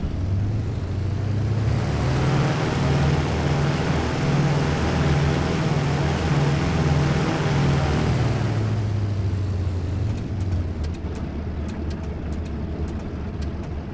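Twin engines of a Wellington bomber in the Desert Wings Tobruk flight simulator rev up and down, a loud, pulsing propeller drone that swells and fades across the run before settling to a lower idle with light clicks.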